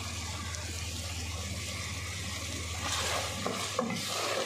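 Four or five green chilies go into a hot pot of chicken pota seasoned with carom seeds, frying with a constant close sizzle that swells as stirring starts, with clattering scrapes near the end.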